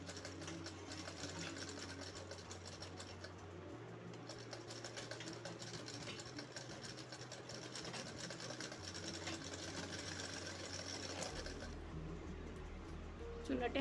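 A sewing machine stitching gathers into a puff sleeve for a blouse, a continuous rapid needle clatter close up and moderately quiet, running steadily throughout.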